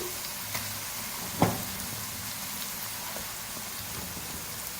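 Bone-in chicken frying in a karahi with ginger garlic paste and cumin, giving a steady, even sizzle like light rain, with one brief louder crackle partway through.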